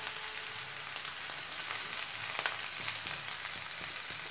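Green chillies fry lightly in oil with fennel and coriander powder for a Rajasthani pickle, giving a soft, even sizzle with a few faint stirring taps, close and quiet, with no speech.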